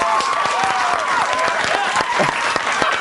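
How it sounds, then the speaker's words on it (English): Studio audience applause with some cheering on a TV show, a dense, steady wash of many hands clapping that fills the whole stretch at a fairly loud level, with a few scattered voices and whistle-like tones riding on top. "I'll give her a round of applause for that"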